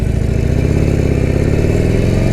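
Harley-Davidson Forty-Eight Sportster on stock EPA pipes pulls away, its loud, close engine holding a deep, steady, throbbing rumble for the whole stretch.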